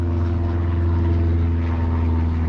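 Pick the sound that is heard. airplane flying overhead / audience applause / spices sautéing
airplane flying overhead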